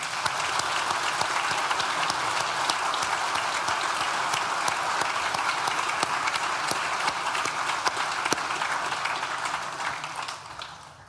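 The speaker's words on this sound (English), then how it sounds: "please join me in thanking them with a well-deserved round of applause" A large graduation ceremony audience at an art and design school gives a sustained round of applause, dense crowd clapping at an even level for about ten seconds before it begins to fade.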